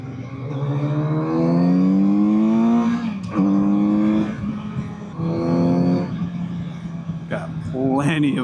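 Kawasaki Z900RS four-cylinder motorcycle engine rising and falling through repeated revs and downshifts, loud and close, with blips between gears and a rider's voice over the engine.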